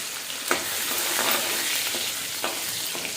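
Garlic cloves sizzle and crackle steadily in a hot pan, with soft scraping stirs breaking through now and then, close and without any talking.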